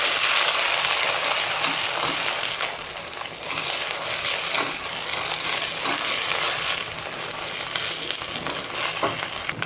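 Onions with ginger garlic paste and coriander powder are stirred in a hot pan. The loud, close, continuous sizzle carries scraping stir noises through the whole stretch, with no talking.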